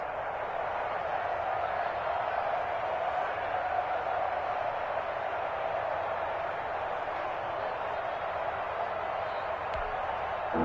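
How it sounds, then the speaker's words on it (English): A steady, roaring stadium crowd cheers in a PS4 American football video game, a constant wash of noise with no clear peaks, sitting under a commentator's voice. "the crowd getting into it as we come up on a big 3rd down"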